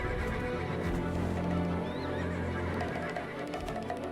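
Horses whinny in the open-world MMORPG Black Desert Online. A clear, fairly close neigh rises and falls over a busy, continuous game ambience, with faint hoof-like thuds underneath.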